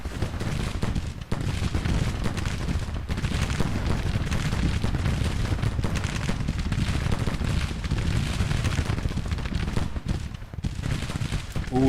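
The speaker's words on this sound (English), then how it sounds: "This is exactly what you want in a Civil War battle, is just to have the enemy completely surrounded by gunfire." Dense, continuous crackle of massed musket volleys and rapid overlapping gunfire from a Grand Tactician: The Civil War battle, moderately loud and unbroken throughout, with no voices.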